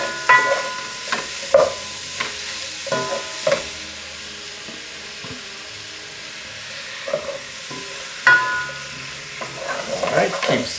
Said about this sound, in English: let's now go ahead and add our shrimp